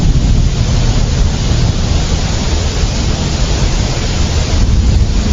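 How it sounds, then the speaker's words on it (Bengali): Heavy rain in an animated cartoon: a loud, dense, unbroken rushing hiss that fills the scene steadily from start to finish, with no voices. "জোরে বৃষ্টি শুরু হয়ে গেল যে"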